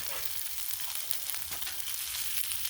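A New York strip steak, a thin cut, sears on a Blackstone griddle with a steady, close crackling sizzle that holds throughout without talk.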